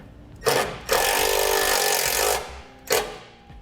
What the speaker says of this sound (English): we'll now place our ring terminal over the hole and secure it with our self-tapping screw